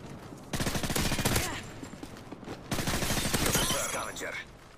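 Bursts of MP7 submachine gun fire in the Modern Warfare 3 video game, two rapid sustained volleys with sharp repeating cracks, loud and close, with a short lull between them.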